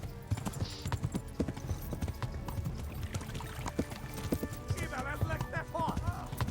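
Horse hooves clip-clop at a canter in the medieval video game Kingdom Come: Deliverance, a rapid steady rhythm of close hoofbeats mixed with game music and effects, with some whinnying and splashing sounds near the end.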